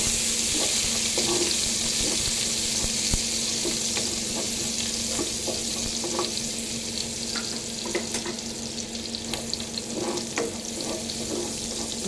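Garlic and onion sizzle and fry steadily in a pan until browned, a continuous close crackle with occasional stirring clinks and scrapes, no voices.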